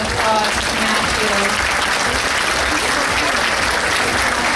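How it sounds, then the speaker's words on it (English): Crowd at a bridal show gives loud, continuous applause with cheering voices mixed in, a dense wash of clapping from start to finish. "So a big round of applause to Matthew."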